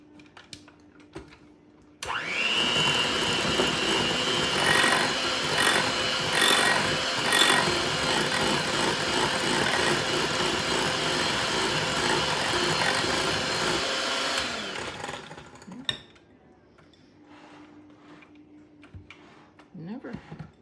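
Salt, garlic powder, mustard powder and pepper stirred into pimento cheese in a bowl: a loud, continuous scraping and rubbing that runs for several seconds, then stops, leaving a quiet room with faint clicks.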